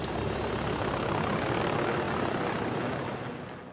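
A steady aircraft engine drone roars from a plane in the video game Ghost Recon Breakpoint, loud and continuous with a high whine over it, fading slightly toward the end, no talking.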